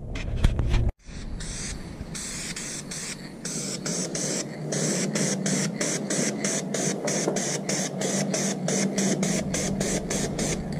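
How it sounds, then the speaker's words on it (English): A spray paint can hisses steadily in short rapid bursts after a brief pause while painting a 2JZ engine block, the jets pulsing and close to the microphone. "I'm just going to give this can a little shake up, and then it should be start spraying."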